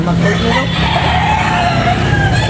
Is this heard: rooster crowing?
yes